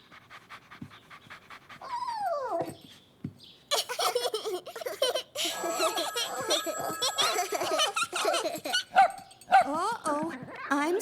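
An excited puppy pants, whimpers and barks close by in a cartoon scene, its noises mixed with a child's laughter and chatter from several voices.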